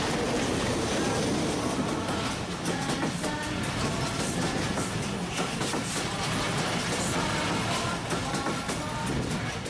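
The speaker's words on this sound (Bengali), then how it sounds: "রেলগাড়ি" Train sound from an animated children's lesson: a steady loud rumble with rhythmic clattering of rail cars running continuously, close and uninterrupted.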